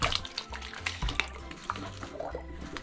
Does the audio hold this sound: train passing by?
no